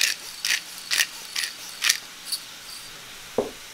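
A pepper grinder is cranked in a kitchen, giving a few soft, evenly spaced gritty ratcheting bursts close by, followed by a single dull knock.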